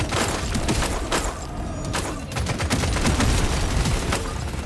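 Piercing homing rifle gunfire in DRG Survivor, a dense continuous fusillade of rapid sharp shots and thuds that stays loud throughout with brief gaps in the barrage.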